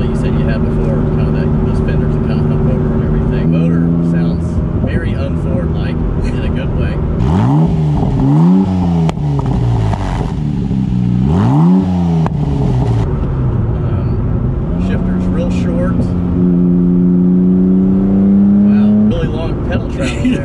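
Rossion Q1 mid-engine supercar engine revving hard, with repeated rising-and-falling throttle blips in the middle and a steady idle drone before and after, with some voices in the background.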